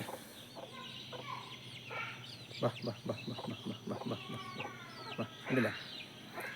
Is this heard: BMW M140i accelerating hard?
no